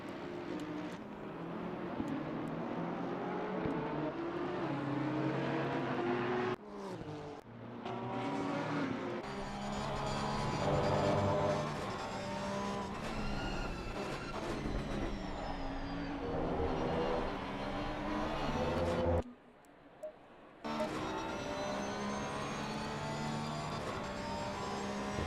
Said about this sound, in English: Hardy trying to hunt down the BMW last lap